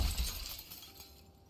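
A window pane shatters in Project Zomboid, a sharp crash of breaking glass up front, then tinkling shards trailing off over about a second, with no voices.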